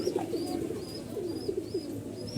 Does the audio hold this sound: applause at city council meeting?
no